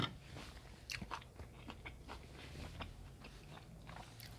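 Someone eating rice mixed with Burmese fermented fish sauce alongside raw shallots, with quiet close-up bites, crunching and chewing in an irregular rhythm.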